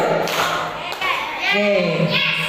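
Children in a school class clap together in a counting clapping game, with quick hand claps mixed with young voices chanting and calling out close by.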